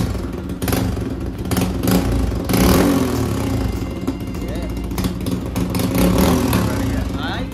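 Yamaha R15 V4 motorcycle with its exhaust sensor removed and the stock exhaust still fitted, its engine running close and loud in a steady idling rumble with slight revs, while a voice talks over it.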